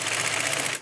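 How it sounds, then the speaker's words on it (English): A sewing machine rapidly stitching PVC bouncy castle material, a fast, even mechanical chatter held close and loud for under a second before stopping abruptly. "Did you like the sound of the sewing machine when they stitched the PVC together?"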